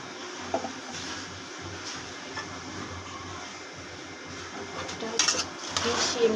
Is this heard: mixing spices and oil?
yes